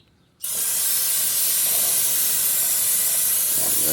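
A brief quiet, then a loud, steady aerosol spray of brake cleaner hisses continuously at close range on rear drum brakes until the end.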